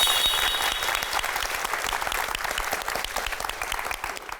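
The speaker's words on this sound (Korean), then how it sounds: "와, 여러분 박수." Studio audience on a Korean talk show breaks into dense, steady applause that carries on alone from start to finish, slowly easing off toward the end.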